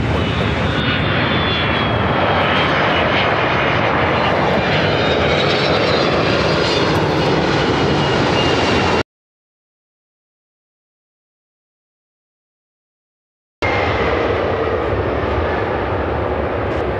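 A passenger airplane lands at Chicago O'Hare on runway 10 center, its engine roar loud and continuous with a slowly descending whine, cut by a few seconds of total silence before the roar resumes.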